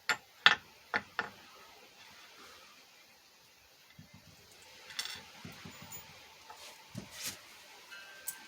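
Ratcheting and clicking of bolts being tightened on an 80cc two-stroke bicycle engine kit, with a few sharp ticks at the start and scattered quieter mechanical clicks and clunks afterward, faint and close.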